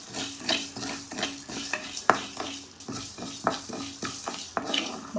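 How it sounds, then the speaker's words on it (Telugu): Rice, coriander seeds, a piece of cinnamon and two cloves are dry-roasted in a pan, stirred with repeated rhythmic scraping and clinks of the spoon against the metal under a faint sizzle, close and with no voices. "1 చెక్క 2 లవంగాలు వేసుకొని ఇది బాగా వేపుకోవాలండి"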